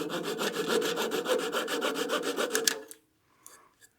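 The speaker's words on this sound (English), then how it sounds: "I'll use a small Japanese handsaw just to cut off the nub" Small Japanese handsaw cutting off a wood nub on a turned artifact pot at the lathe, a steady run of rapid rasping strokes that stops abruptly, followed by a couple of faint scrapes.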